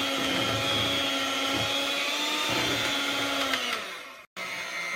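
Electric mixer beating cake batter for a keke, running as a steady loud whir with the bowl wrapped to stop splashing, cutting off abruptly near the end before restarting.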